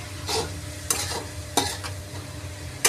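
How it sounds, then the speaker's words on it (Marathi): Dried shrimp with spring onion greens sautés in a pan: a steady low sizzle broken by three or four bursts of stirring scrapes, close and moderately loud. "भाजी 5 मिनिटं चांगली आपण परतून घेऊ आणि झाकण घालून घेऊ"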